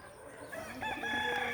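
A chicken clucks and calls briefly, fairly faint, with a short rising cry near the end.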